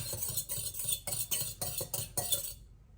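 A spoon stirs a soy sauce and hickory liquid smoke marinade in a bowl, giving a steady run of close, light clinks and scrapes against the bowl that stops abruptly near the end.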